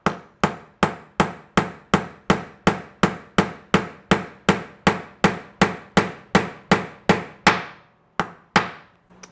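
Close, sharp metallic hammer taps on a Ducati clutch pin, in a steady, even rhythm, about twenty strikes in a row, then a short pause and a few final taps.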